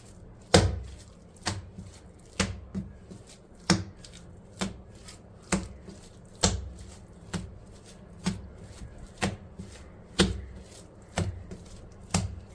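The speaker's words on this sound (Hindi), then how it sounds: "इसको हम पटकेंगे तकरीबन 20 से 25 मरतबा" Rumali roti dough made with milk, egg and baking powder being slammed down onto a counter again and again, giving thirteen sharp, evenly spaced thuds about one second apart, close and distinct, with no talking.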